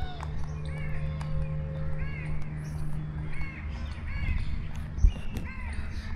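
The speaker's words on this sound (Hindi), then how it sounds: "परिंदों की चहचहाहट सुबह सुबह" Birds call and chirp in short repeated bursts in the morning at an agriculture university park in Tandojam, Sindh, over a steady low outdoor hum, with a few harsher calls mixed in and no talking.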